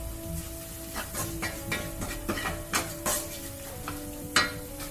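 Onions frying golden brown in a pan for Kerala-style clam fry, with steady sizzling hiss under repeated scraping stirs of a utensil against the pan, close and fairly loud, no voices.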